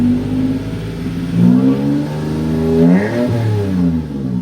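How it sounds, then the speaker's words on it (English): A Toyota Tacoma V6 with a Rough Country exhaust system idles loudly and close in neutral, rising through a couple of swelling revs before settling back to a deep, rumbling idle. "I'm gonna go ahead and rev it up a little bit in neutral so you can kind of hear what it sounds like at different RPM."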